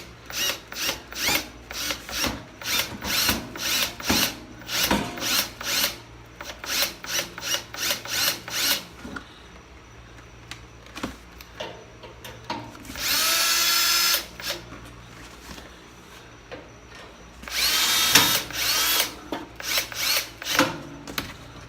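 A power drill bores a series of holes in table saw panels, sounding as close, rhythmic bursts of whirring with short pauses between them and sharper, louder high-pitched drilling runs near the middle and end.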